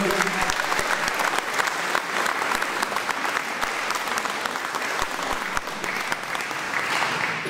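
Steady, dense applause from a large audience at a Stolperstein ceremony in Balbronn, sustained throughout with bright clapping texture and no pauses.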